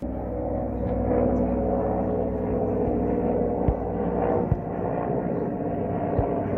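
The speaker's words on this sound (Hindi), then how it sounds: "आज वायुसेना के विशेष हेलीकॉप्टर ने पुष्कर के जाट विश्राम स्थली के पीछे बने अस्थायी हेलीपैड पर लैंडिंग कर सुरक्षा व्यवस्थाओं का जायजा लिया।" An Air Force helicopter lands on a temporary helipad behind the Jat rest area in Pushkar, producing a steady, loud, low rotor-and-engine rumble with a few faint knocks throughout.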